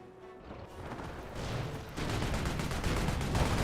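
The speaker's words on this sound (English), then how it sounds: "Calliope rocket barrage takes out some more pioneers" A Calliope rocket barrage in the WWII strategy game Company of Heroes rumbles as a dense, continuous wash of explosions and crackling blasts that grows louder and heavier partway through, with no talk over it.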